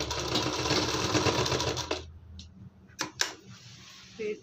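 A sewing machine runs steadily for about two seconds, stitching the side seam of a lined net-fabric kurti, then stops, leaving a few sharp clicks and taps close by.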